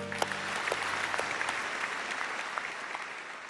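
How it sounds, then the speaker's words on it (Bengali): A studio audience at a family game show breaks into sustained clapping, a dense even patter of many hands that holds steady for several seconds without talk. "জোরে একটা হাততালি"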